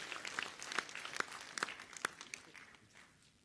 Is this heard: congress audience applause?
yes